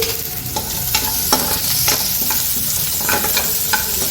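Onion and fennel seeds fry in oil in a pan for palak paneer, a steady close sizzle broken by several spatula scrapes and stirs, with no voices.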